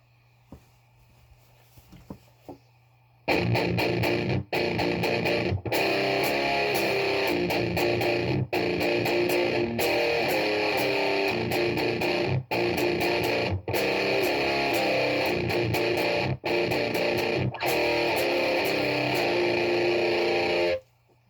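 A heavily distorted electric guitar, played through a distortion pedal, plays loud, dense chords continuously for many seconds, with brief sharp cuts, after a quiet start with faint hum.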